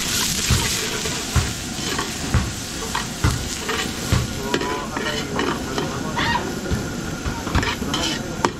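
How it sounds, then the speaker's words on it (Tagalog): Garlic and onion sauté in hot oil for arroz valenciana, a loud close sizzle broken by regular scraping stirs of a utensil against the pan, with no speech. "gigisa muna natin yung sahog ng arroz valenciana"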